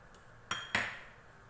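A spoon stirs melting sugar with a pinch of yellow food colour in a pan, giving two quick, faint metallic clinks against the pan over quiet background.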